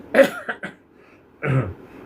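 A person coughs sharply a few times up close, then gives a single heavier cough after a short pause.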